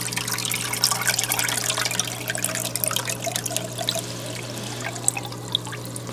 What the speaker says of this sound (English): the water is going to start coming in